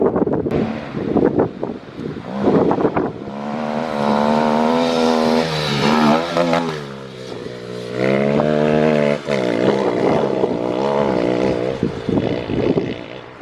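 A 2021 Kawasaki KLX300 motorcycle fitted with a Power Commander tuner lurches forward as the throttle opens. The engine note climbs and swells in several loud revving surges, with heavy wind buffeting over the microphone.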